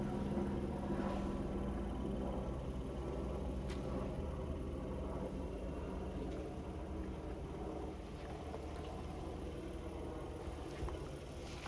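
A parked Acura ILX idling on a cold 33-degree morning in Sedona, a steady low engine rumble with a faint whir, continuous and even throughout.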